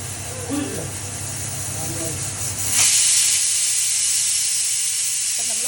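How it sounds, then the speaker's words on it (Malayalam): A pressure cooker cooking green peas vents with a loud, steady hiss of escaping steam that swells midway and continues, with faint speech under it at first. "അപ്പം നമ്മുടെ കുക്കറിന് ചീറ്റടിക്കുവാണ് ഗ്രീൻ പീസിന്"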